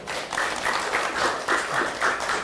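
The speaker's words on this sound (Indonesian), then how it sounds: "Biasa tepuk tangan dulu." Children at a free school meal event in Indonesia applaud steadily, a dense, continuous patter of many hands clapping together, moderately loud throughout.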